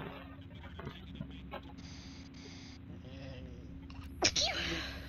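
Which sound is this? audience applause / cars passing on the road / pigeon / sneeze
sneeze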